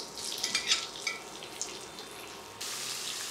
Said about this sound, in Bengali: আমি দিচ্ছি ম্যারিনেট করা চিকেন